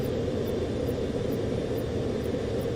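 A fixed-wing airplane roars overhead in Call of Duty: Black Ops Cold War, a loud, steady engine drone that holds without break.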